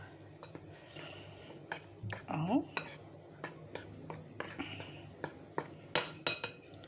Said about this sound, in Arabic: وهقلبه بقى كويس